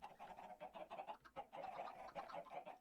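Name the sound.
chickens in a chicken farm, from a video game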